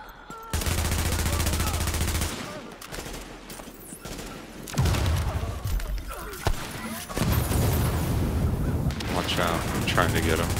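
Sniper and other gunfire in The Division shooter video game, a dense sustained barrage of shots and blasts that stays loud and continuous, with bursts of heavy fire throughout and talk underneath.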